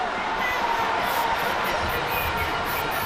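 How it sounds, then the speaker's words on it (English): Outdoor crowd at a Ghana Independence Day celebration cheering and roaring steadily in response to a physical training display, a dense wash of voices holding for about three seconds with no clear lull. "And the response from the crowd is"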